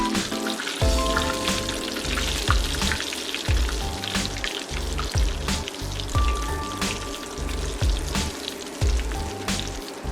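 Steady crackling and bubbling of hot and spicy crispy chicken frying in hot oil, continuous and close, with a faint tonal hum running underneath.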